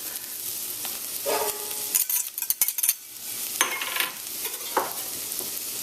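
Green onions, cilantro, black pepper and Scotch bonnet pepper are stirred in a pot with a spoon, giving close scraping and clinking over a soft sizzle in several short bursts, no voices.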